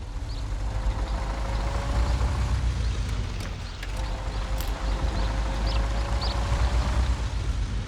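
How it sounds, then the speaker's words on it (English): An off-road truck in the Over the Hill driving game, running in low range with only two gears, growls with a deep engine rumble and a thin, steady gearbox whine riding above it. "Getting some of that gearbox wine"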